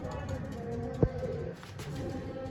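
Pigeons cooing softly in a loft, low murmuring calls under steady background noise, with one brief thump partway through.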